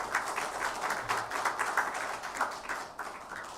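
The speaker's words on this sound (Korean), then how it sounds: "우리 성가대원들에게 감사의 박수 이렇게 하겠습니다." A church congregation claps for the choir after Sunday worship, a soft, steady patter of many hands heard from some distance and fairly quiet throughout.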